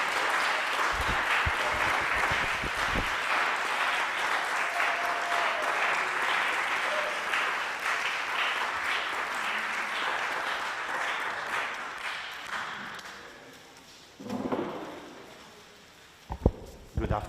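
Sustained applause from an audience at an industry and alumni day gathering rolls on for many seconds, thick and even, then thins out to scattered claps and a few knocks as talk begins.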